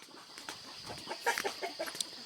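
Chickens cluck and squawk in short, irregular bursts at close range, with a faint steady hiss in the background and no clear talking.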